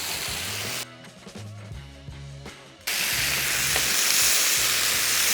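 Food frying in olive pomace oil in a frying pan, a steady broadband sizzle that drops away briefly and then returns louder and denser, with a low music bed underneath.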